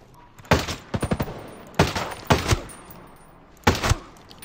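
Sniper rifle shots in the video game Ghost Recon Breakpoint: three loud, sharp bursts, the middle one a rapid volley of several cracks with echoing tails, spaced over a few seconds with no talking.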